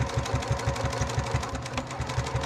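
A sewing machine stitches through two layers of vinyl with a long stitch length, a fast, even rhythmic chug of needle strokes, close and loud, running steadily without talk.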